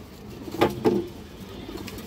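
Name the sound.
pigeon cooing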